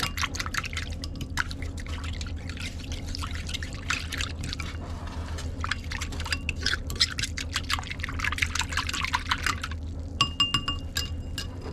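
Liquid slurry pours and splashes steadily into a pot of Samoan chicken curry for several seconds, close up, ending with a few light clinks.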